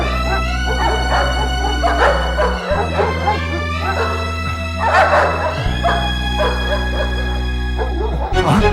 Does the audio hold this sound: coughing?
no